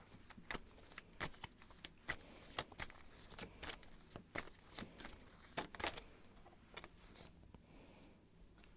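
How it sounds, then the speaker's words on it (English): Quiet, close tarot card shuffling: irregular bursts of crisp riffling and tapping, with short pauses between, in an otherwise silent room. "going to shuffle and see what the cards have to say about this person."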